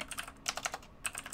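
Quick bursts of computer keyboard typing, a few crisp clustered keystrokes in two short runs separated by a brief pause, close and fairly quiet with no voices.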